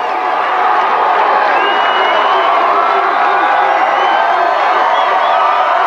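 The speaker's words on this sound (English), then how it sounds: "As the crowd gets a glimpse of a different player, you hear a roar, just a roar." A huge street crowd roars and cheers at a Toronto World Series victory parade, a dense, loud, unbroken wall of shouting and whooping that holds steady throughout.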